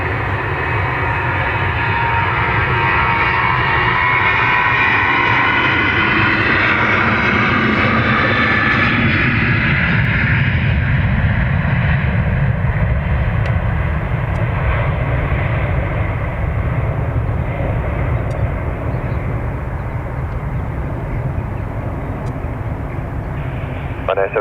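Aircraft engines roar loudly and steadily at Dublin Airport, a heavy sustained drone that shifts in pitch as a plane moves along the runway, with radio voices in the background.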